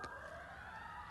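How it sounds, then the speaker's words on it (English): An emergency vehicle siren wails faintly from a distance on a Santa Monica street as the vehicle passes. It sounds as a steady, slowly sliding tone over low traffic rumble. "the siren like that, some car may be passing by."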